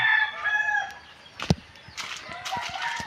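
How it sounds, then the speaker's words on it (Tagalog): A rooster crows loudly nearby, followed by scattered clucking from chickens, with a sharp knock partway through. "Ang mga manok po"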